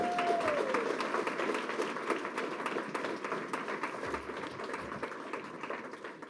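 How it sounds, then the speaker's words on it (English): Symposium audience applauding in a large room, a sustained, full round of clapping from many people that fades slightly toward the end. "let's give another round of applause to Treasurer Sierra for those amazing words."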